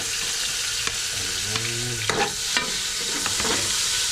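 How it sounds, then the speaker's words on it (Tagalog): Garlic frying and browning in a pan with onion, a steady sizzle carrying through while a utensil stirs and scrapes in a few distinct strokes, close and fairly loud. "pagpapula ng bawang yan, no? Kasi pag mo inahalo yan, masusunod"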